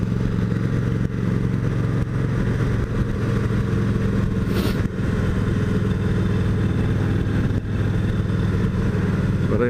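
Steady motorcycle engine drone while riding on a road in Kentucky on the way to work, continuous and close with wind rumble, no talk.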